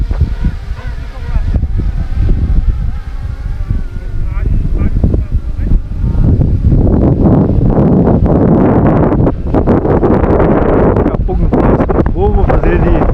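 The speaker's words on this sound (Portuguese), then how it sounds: "Tô voando pertinho porque tá ventando demais aqui" Strong wind buffets the microphone outdoors during a flight of a small FW200 model helicopter, a loud, roaring gusty rumble that grows heavier midway, with someone talking over it.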